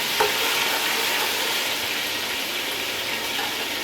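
Steady, close sizzling of garlic ginger paste frying in a hot pan for beef nalli nihari, a constant crackling hiss throughout with a brief clink near the start and no talking.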